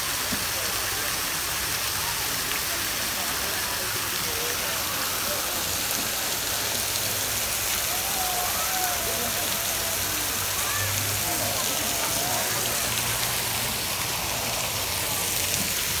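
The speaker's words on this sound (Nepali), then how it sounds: "यो चाहिँ पानी माथिबाट झर्रा रहेछ" Water falls from above through a built channel at an outdoor spot, giving a steady broadband splashing rush that runs the whole time, with faint voices talking underneath.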